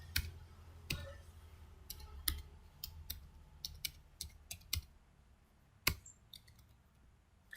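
Code is being typed on a computer keyboard in a sparse, uneven run of crisp key clicks, a few louder strikes standing out against a quiet room, with no talking.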